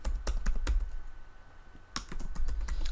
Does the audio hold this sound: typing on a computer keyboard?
yes